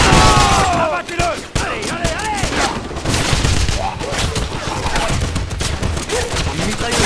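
MG42 machine gun fire in a Wolfenstein shooter game: loud, continuous rapid bursts of automatic gunfire with sharp cracks and a shouting voice over the battle din.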